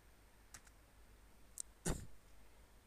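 A computer keyboard tapped a few times, sparse light clicks ending in one firmer keypress like the enter key, close and quiet in a still room.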